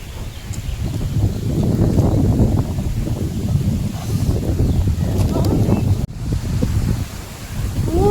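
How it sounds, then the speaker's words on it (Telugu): Strong wind buffets the microphone in a steady, heavy roar with gusty surges, briefly cutting out once before blowing hard again. "మై గాడ్, గాలి."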